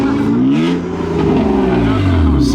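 A loud Lamborghini engine revs and roars continuously at a car meet, its pitch rising and falling, with voices talking over it nearby.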